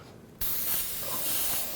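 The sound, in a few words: airbrush spraying paint on a skull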